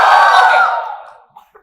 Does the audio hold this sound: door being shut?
no